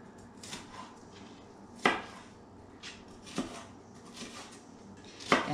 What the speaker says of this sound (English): I will finish chopping up these jalapeno peppers.